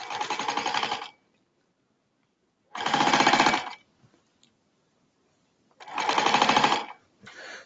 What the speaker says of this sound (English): I'm going to stitch about an eighth of an inch in to hold all of that down.